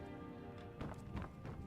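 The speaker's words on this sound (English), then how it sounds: "Like the horse clomping along" Horse hooves clomping along in Skyrim, a few soft irregular thuds over a steady background hum, fairly faint and with no talk over them.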